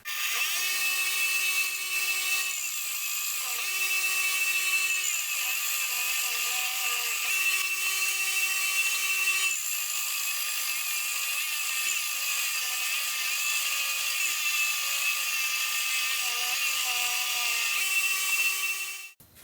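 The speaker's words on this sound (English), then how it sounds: "I'll give them a bit of a run like that on the belt sander, get them spot on" Belt sander running steadily as cut exhaust pipe ends are smoothed on its platform for a mandrel-bend exhaust, a continuous high whine with shifting tones and no talk.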